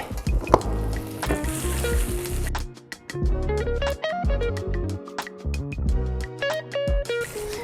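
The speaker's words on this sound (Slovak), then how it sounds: "huby máme orestované" Mushrooms sauté in oil in a pan for soup, a steady crackling sizzle with irregular stirring scrapes and clatters running throughout, close and fairly loud.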